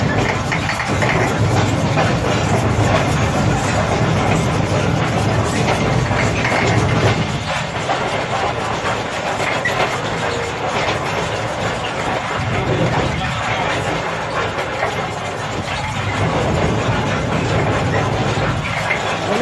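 An underground mine train rides 350 metres below ground, giving a loud, steady low rumble and engine drone that runs without break, with faint periodic clacks from the track.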